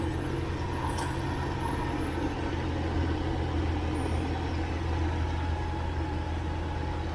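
The engine of a cheap used van runs at a steady low idle, a continuous deep rumble with a constant hum and no talking.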